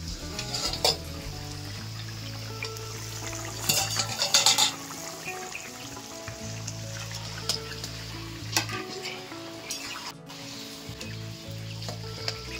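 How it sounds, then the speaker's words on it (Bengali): Pieces of catla fish slide into a pot of simmering, thin curry with ridge gourd and potato, giving a soft bubbling sizzle with clinks and scrapes of a spoon and pot lid, close and without voices. "আমি ঢাকাটা খুলে এবার মাছগুলো দিয়ে দেবো।"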